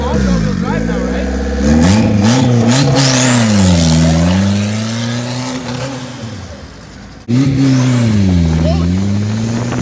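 A turbocharged Honda CR-V engine in a homemade kart revs up and launches with all-wheel drive, loud and close, its pitch rising and falling through two surging pulls with a sharp break between them.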